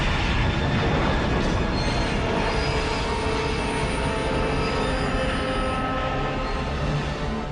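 A train runs along a railway with a steady, loud rumble of wagons and wheels, with faint squealing tones above it, continuous and close throughout with no voices.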